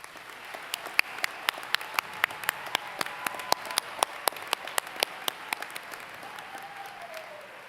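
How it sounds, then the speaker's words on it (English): Applause from the audience at a college summer commencement ceremony, a steady wash of many hands clapping with sharp individual claps standing out, sustained for several seconds. "Let's give them all a round of applause."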